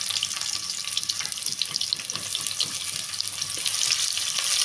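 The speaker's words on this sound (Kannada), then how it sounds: "ಸ್ವಲ್ಪ ಈರುಳ್ಳಿ ಎಣ್ಣೆಯಲ್ಲಿ ಫ್ರೈ ಆದಮೇಲೆ" Chopped onions fry in hot oil for soybean pulao, a steady close sizzling hiss that crackles continuously and grows slightly louder toward the end.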